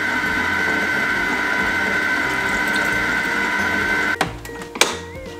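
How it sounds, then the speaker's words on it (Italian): A home kitchen stand mixer at low speed steadily whirs as water is added to flour for homemade bread dough, a continuous mechanical hum that cuts off near the end, followed by a couple of sharp clunks. "metti un po' d'acqua."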